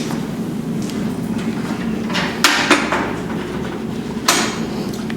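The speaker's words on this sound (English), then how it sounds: "Let's tighten down our latches." Latches on a SawGear table are tightened with a few sharp metallic clacks against a steady background hum, the loudest snaps coming in a cluster midway and one more near the end.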